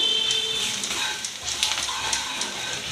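Turmeric and onion sizzle in hot oil in a pan for a prawn dish, a close, steady crackling fry with scattered pops and occasional stirring scrapes.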